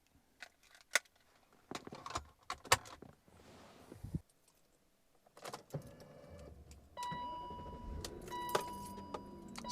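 BMW E38 740i starting: keys jangle and clicks come first, then the engine turns over and settles into a steady idle, faint and close by.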